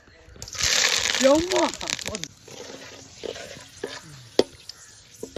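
Curry leaves hitting hot cold-pressed oil in a village kitchen, a loud burst of crackling sizzle that fades after a couple of seconds into scattered pops and clinks, with someone talking over it.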